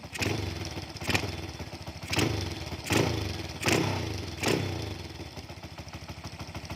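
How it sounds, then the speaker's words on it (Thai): A Honda Wave 100 set up as a dirt bike, its carburetor freshly tuned, idles with a rattling clatter and is blipped five times in a regular rhythm, each rev swelling loud and close before dropping back. "เปิดคันเร่งดูหน่อยแง้มดูหน่อยครับ"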